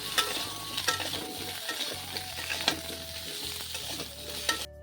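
Eggplant and potato pieces sizzling in oil in a pan in a modest home kitchen, a soft continuous fry with occasional crisp pops and stirring scrapes, quiet and without voices.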